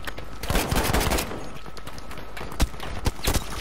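Rapid automatic gunfire in the shooter game Battlefield V rattles loudly in dense bursts, followed by a few sharper isolated shots toward the end, with almost no talking.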